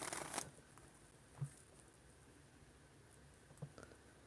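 Playing or reading cards being shuffled, soft riffling and patting strokes that come in short, close bursts with quiet gaps between them.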